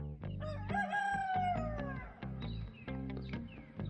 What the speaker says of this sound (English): So we've got our own alarm clocks here. Those two roosters.